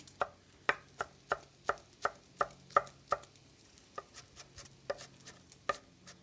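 A knife finely dices jalapeños on a cutting board, about a dozen crisp, evenly spaced chops, quiet and close, with a short pause partway through.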